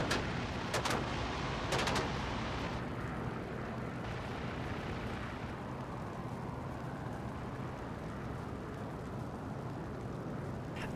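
A Spitfire crashing and exploding in a WWII flight combat game: a few sharp cracks at the start, then a long, heavy, roaring rumble of fire and engine noise that holds steady throughout.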